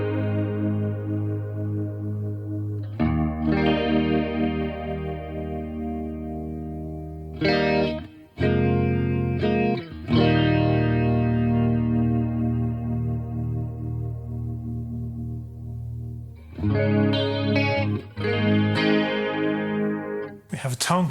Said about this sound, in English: Let's just turn up the wet-dry mix, just so you can hear more effect of that.